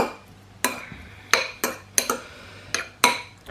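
A utensil stirs lime juice dressing in a bowl, producing about eight sharp, close clinks against the dish at an uneven pace, with quiet scraping between strikes and no voices.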